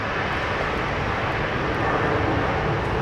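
Jetstar airliner at Brisbane Airport, a steady, broad engine roar that holds evenly at moderate loudness throughout, with no voices.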